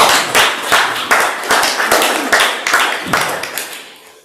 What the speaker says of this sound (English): Don't clap yet, it's not over.